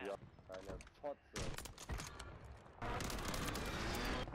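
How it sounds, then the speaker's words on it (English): Gunfire on Rebirth Island in Call of Duty Warzone, scattered sharp shots and a clustered volley followed by a steady, dense roar of noise, with someone talking over the opening seconds. "Where are you shooting, bro?"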